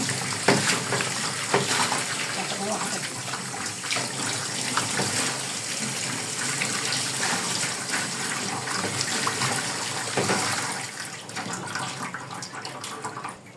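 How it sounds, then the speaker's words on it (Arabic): Water running steadily from a kitchen tap into a blender jug, a continuous splashing hiss that stays loud and even, easing slightly at the end. "نحط طبعا شويه ميه من الحنفيه"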